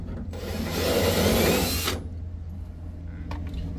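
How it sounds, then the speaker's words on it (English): A power drill bores out a rusty weld, its motor whining loud and close for about a second and a half before cutting off, leaving low hum and faint clicks. "once you start drilling it out and you see a bunch of rust coming out, that's when you know you're through the weld"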